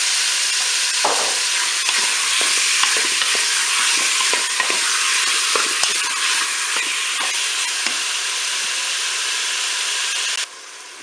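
Beef browning in melted butter inside a Cookeo multicooker pot gives a loud, steady, close sizzle with faint crackles and stirring scrapes, fading slightly near the end, with no talking.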